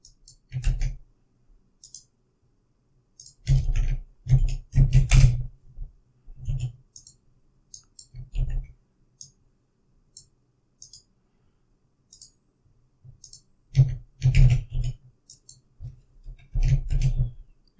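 Sharp computer mouse clicks and keyboard taps come in scattered bursts with long silent gaps, crisp and close, as text is pasted into web form fields.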